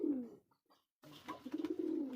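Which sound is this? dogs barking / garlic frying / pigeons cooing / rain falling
pigeons cooing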